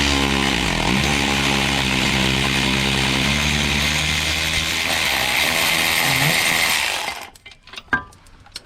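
A power tool whirs loudly and steadily on a front shock bolt of a 2002 Jeep Wrangler, working nonstop before cutting off into a few clanks and knocks at the end.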